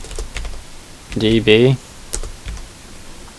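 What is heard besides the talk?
typing on a computer keyboard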